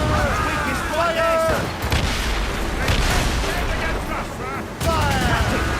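Cannon and musket fire traded with enemy ships in Assassin's Creed Rogue, heavy booms and crackling shots amid naval battle noise, with crew voices shouting over the din.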